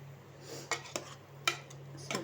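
Metal clinks and clatters of a pressure cooker lid being handled and opened in a home kitchen after cooking watermelon-rind kootu, several sharp separate knocks over a low steady hum.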